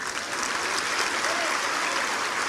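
A church congregation applauds to the Lord in a steady, dense wash of clapping from many hands, loud and continuous throughout, with faint voices mixed in.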